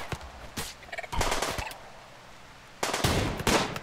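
Gunfire in the video game Rimworld: rapid, crackling bursts of shots in two clusters with a lull between, moderately loud with faint game background.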